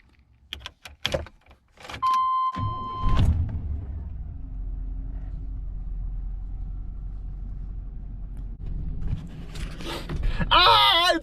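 A 1998 Chevy Silverado K1500 4x4 pickup cranks over after a key-turn chime and jingle, catches and settles into a steady low idle rumble up close, with a short squeaky whoop near the end.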